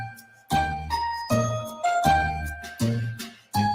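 Christmas novelty song with jingling bells playing, bright chiming bell strikes landing in an uneven rhythm every half second or so, each ringing out before the next, no voices heard.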